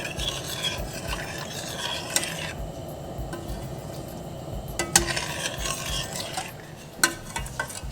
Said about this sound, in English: So we'll just give this a nice stir and get it all incorporated.